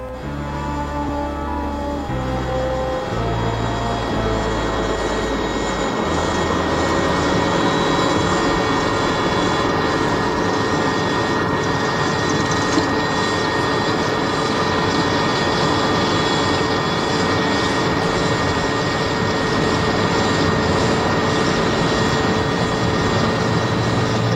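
Military aircraft engines roar steadily at a South African forces airfield during the Angolan war, a loud continuous drone throughout with no talk.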